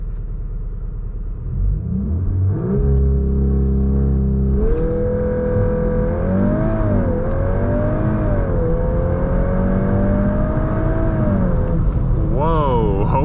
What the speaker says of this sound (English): this is gonna be our first time doing launch control